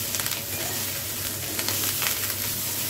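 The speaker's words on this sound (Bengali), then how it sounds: "আমি ঢাকা খুলে একটু নেড়ে দিচ্ছি" Cauliflower florets fry and sizzle in a pan of mustard paste sauce, a steady close crackle with soft stirring scrapes throughout and no talk.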